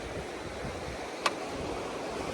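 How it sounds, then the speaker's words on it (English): A raging river in Alaska rushes past, a loud, steady, broadband roar of churning water filling the whole stretch, with one brief sharp click partway through. "standing in Alaska in front of this raging river"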